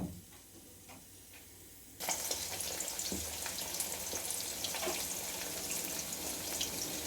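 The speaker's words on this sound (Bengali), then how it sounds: "আলুটা ভাজছি ভালো করে।" Potatoes frying in hot oil in a pan over a raised gas flame, a quiet start followed by a sudden steady crackling sizzle with small pops and ticks, close and continuous with no talking.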